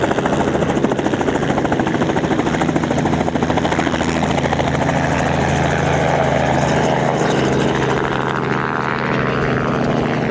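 Helicopter in flight, heard from the cabin during a passenger's first ride: a loud, steady roar of rotor and engine that fills the whole stretch without a break, with no talking.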